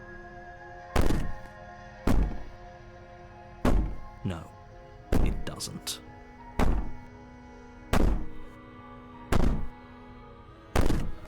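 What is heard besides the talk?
banging on a door in the video game Slay the Princess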